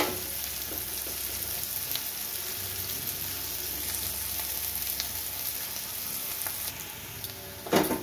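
Onion and garlic sizzling in hot oil with nigella seeds and green chilli for tel koi: a steady, fairly soft frying hiss with occasional light stirring taps, then a louder scrape or clatter right at the end.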